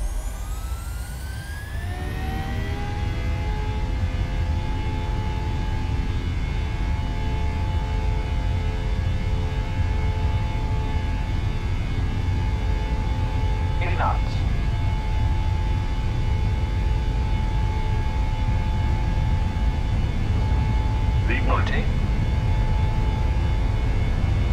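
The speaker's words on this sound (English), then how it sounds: "Cleared for takeoff runway 0-3 right" Boeing 737-600 jet in the PMDG flight simulator spooling up for takeoff: a steady loud engine roar with rising whine tones that settle into a constant drone, with faint brief chirps later.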